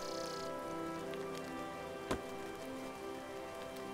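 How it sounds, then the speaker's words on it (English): Rain falls in the Mirthwood video game as an even, steady hiss of drops that holds for the full four seconds, with one sharp tap partway through and no talk over it. "I like the rain sound."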